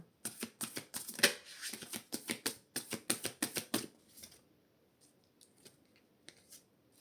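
A deck of tarot cards is cut and riffled close by, a quick burst of crisp flicking clicks for about four seconds, then a few faint scattered taps.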